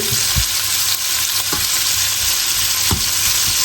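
Spiced lemon shrimp cooking in a pan over a medium-low flame, a loud, close, steady sizzle broken by a few thumps and scrapes of a utensil stirring the shrimp, with no talking.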